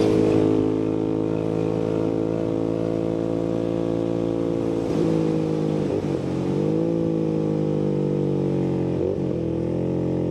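A late-1970s or early-1980s Interceptor motorcycle with a 6-speed transmission pulls loud and close, a smooth buzzing drone that rises steadily, with short dips and climbs as it shifts through the gears.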